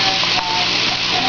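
Shrimp hit a pan of hot oil with garlic and sizzle loudly and steadily from close by, a dense broadband hiss with a couple of faint clinks and no talking.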